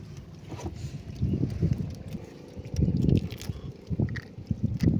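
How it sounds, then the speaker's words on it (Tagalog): Water slapping and sloshing against a small boat in uneven surges from a passing boat's wake, with low rumbling wind noise on the microphone throughout. "Malun-alun man kaunti. Dahil yan sa bangka na nagdaan."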